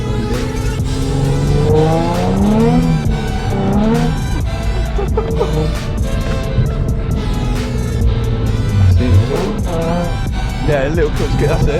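A stock Nissan 350Z street car drifting on a slippery, icy-feeling road with a clutch kick, its engine revving hard and tires squealing loudly throughout, while excited voices talk and shout over the noise from inside the car.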